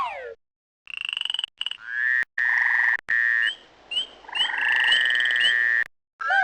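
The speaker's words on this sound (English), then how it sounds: "Click on the chorus frog, bullfrog, gray tree frog, or spring peeper to really get this place hopping" Croaks, trills and chirps from chorus frog, bullfrog, gray tree frog and spring peeper in a Magic School Bus video game, loud and close, in separate bursts with silent gaps, some calls layered together.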